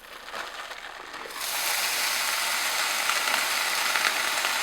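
Frozen onion dropped into a dry pan on medium-high heat, bursting into a steady, fairly loud sizzle after a brief quieter start, then holding a constant hiss.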